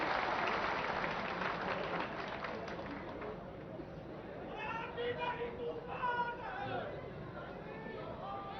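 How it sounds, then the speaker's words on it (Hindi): A crowd at an outdoor welcome for Chief Minister Shivraj Singh Chouhan at a cow sanctuary in Salariya, Agar Malwa, claps loudly at first. The clapping fades into busy chatter and a speaking voice. "जोरदार तालियों से करकर ध्वनि से स्वागत होना चाहिए भाइयों बहनों"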